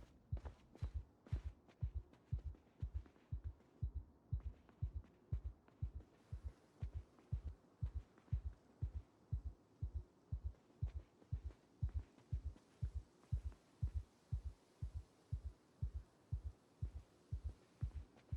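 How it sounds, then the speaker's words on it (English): A heartbeat effect from the survival video game Project Zomboid pulses steadily in a quick, regular double-thump rhythm, deep and prominent over a faint hum, with no talking. "Turn off the sound of your heart beating,"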